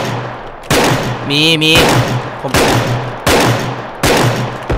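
Gunfire in the first-person shooter game Bodycam: about five loud, close bursts of rapid shots, each cutting in sharply and then ringing out. A brief voice sounds in between.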